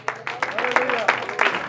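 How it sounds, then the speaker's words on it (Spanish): A church congregation claps for Christ during a Spanish-language sermon, brief scattered applause with uneven rhythm heard under a preacher's voice. "Un aplauso a Cristo en la gloria"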